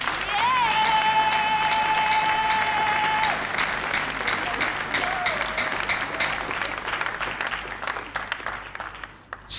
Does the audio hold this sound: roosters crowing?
no